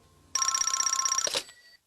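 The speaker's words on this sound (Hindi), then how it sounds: "अरे फोन बज रहा है।" A telephone in the Doraemon cartoon rings once in a single bright trilling burst of about a second, then stops, leaving quiet behind.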